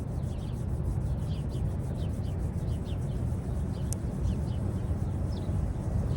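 Hands rubbing together in a steady, continuous friction across the whole stretch, close and fairly loud, with no talking.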